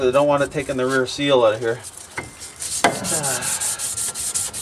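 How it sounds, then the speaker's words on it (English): Used emery cloth rubbed against a rusty motor shaft during a motor installation, a close, rhythmic scraping that follows someone speaking and continues in quick repeated strokes. "I'm just going to get in here with a piece of some used emery cloth"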